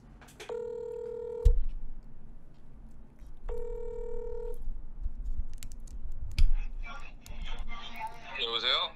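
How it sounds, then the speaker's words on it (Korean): A call placed from a mobile phone rings out twice as a repeating electronic ringback tone, each about a second long, with scattered clicks between and a voice coming in near the end. "휴대폰으로 전화를 한번 걸겠습니다"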